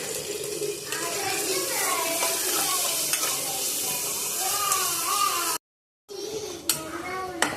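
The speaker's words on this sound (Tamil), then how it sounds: "நல்லா வதக்கிக்கோங்க. புதினா போட்டுக்கலாம்." Mint chutney ingredients sauté in a pan with a bright, close sizzle and repeated stirring scrapes, cutting to a brief silence before the frying and clinks resume.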